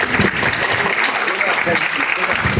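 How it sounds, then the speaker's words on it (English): A convention panel audience applauds loudly and continuously, dense clapping filling the space with a few voices mixed in. "I think a big round of applause for Michelle Creber here."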